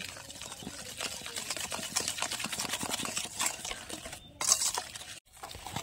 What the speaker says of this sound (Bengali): এখন চিনির গুঁড়োটা এই সাদা তেল আর ঘিয়ের সাথে ভালোভাবে মিশিয়ে নেব